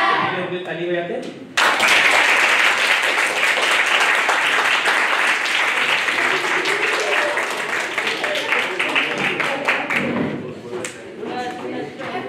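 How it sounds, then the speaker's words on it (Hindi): Applause from a seated audience of students at a self-evaluation session, a dense, loud burst of many hands clapping that starts abruptly and holds steady for about ten seconds before thinning, with faint chatter underneath. "ताली बजाते हैं।"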